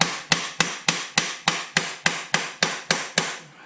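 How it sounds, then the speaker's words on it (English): A hammer strikes a Mercedes C300 4matic wheel bearing flange, about a dozen sharp metallic blows landing in a steady, evenly spaced rhythm, loud and close, each ringing briefly before the next. "if I hammer on that flange, I don't want to break it off"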